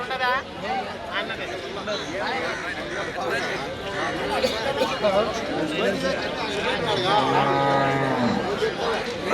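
Khillari calves moo repeatedly amid a busy crowd at the Yemmiganur cattle market, with steady chatter and a nearby voice talking throughout; one drawn-out moo stands out near the end.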